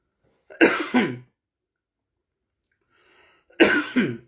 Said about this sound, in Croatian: Došlo mi je kašljanje posle svega, ali nije ovo strašno kašljanje